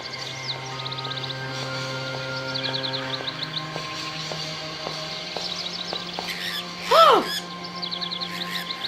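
A bird in the adventure video game Syberia gives a single loud caw partway through, rising above soft background music and ambient chirps.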